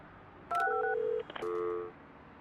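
Phone line being installed in the Project Highrise video game, heard as a quick series of clean electronic dialing tones, two short bursts separated by a brief gap, clear and alone.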